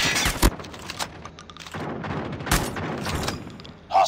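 Video game gunfire from a KRM-262 shotgun in a hardpoint match: a few sharp, booming shots separated by quieter stretches of background game noise and rumble.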